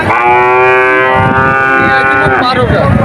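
Cattle at a cattle market lowing loudly and close by, with a long drawn moo in the first half followed by a second rising call, over busy background noise.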